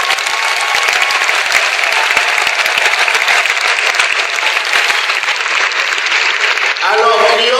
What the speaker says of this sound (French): Si vous les aimez tous, acclamez.